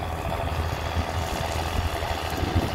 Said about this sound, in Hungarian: A 6 hengeres, 6-8-as motor van benne.